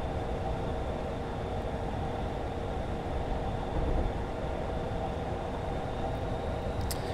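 A Class 40 diesel locomotive in Train Simulator 2015, running on a route from Edinburgh Waverley to Dundee, makes a steady, even engine drone with rumbling wheels that holds at one level throughout with no voices.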